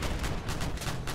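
Rapid gunfire from a vehicle weapon in the combat game Crossout while shooting at an enemy, a steady stream of heavy rhythmic shots, moderately loud with no talking.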